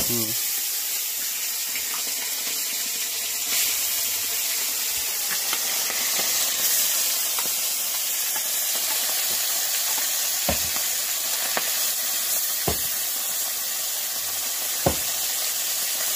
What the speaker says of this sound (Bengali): তেল গরম হয়ে গেছে, মাছ ছেড়ে দিচ্ছি।